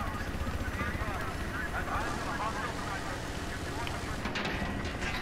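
A helicopter in the Battlefield 4 video game drones steadily through the clip, a dense engine and rotor wash mixed with gunfire and in-game noise, at a constant moderate level.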